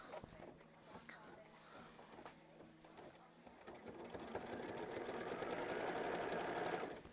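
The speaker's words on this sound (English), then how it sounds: "That was machine stitch step 11, just tacking it down." A sewing machine tacks down quilt block fabric, starting with a few slow, rhythmic needle thumps and then speeding into a steady, louder running whir for the second half.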